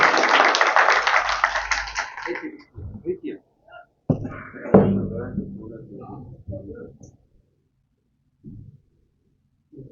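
Audience applause for a performer at a religious poetry gathering: a burst of clapping for about two seconds, then someone speaking with faint scattered claps between his phrases.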